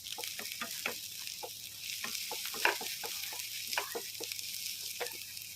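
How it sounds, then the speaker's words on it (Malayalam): Sliced onions sautéing in a pan with salt, a steady close sizzle punctuated by repeated scraping stirs of a spoon, with no talk. "സവാളൊക്കെ വഴറ്റി വന്നിട്ടുണ്ട്"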